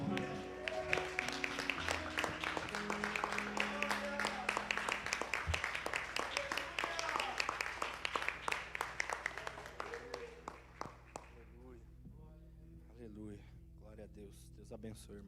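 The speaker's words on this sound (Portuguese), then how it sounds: "Vamos aplaudir Jesus?" A church congregation applauds together for several seconds, dense clapping building and then thinning out, with voices and reverberant room sound under the claps.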